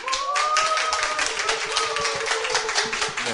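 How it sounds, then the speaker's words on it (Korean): Audience applause and cheering opening a public lecture on national security, a dense steady clatter of clapping with a few raised voices sustained throughout. "여러분들의 큰 박수와 환호성과 함께 시작하도록 하겠습니다"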